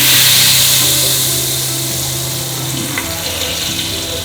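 Palm oil poured into a cooking pot, giving a steady broadband hiss and sizzle over a low hum, loudest at the start and easing slightly, with no talking.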